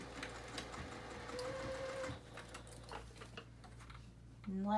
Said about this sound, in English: And then you're going to start sewing.